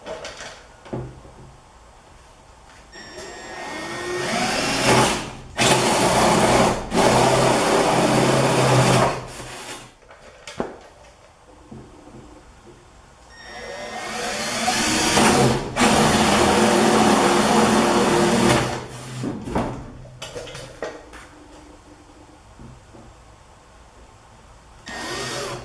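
Power drill boring holes with a 1/2 inch bit, whining loudly up to speed in two long sustained runs of several seconds each, close by, separated by quieter pauses and handling noise.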